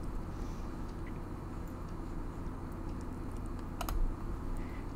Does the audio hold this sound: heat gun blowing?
no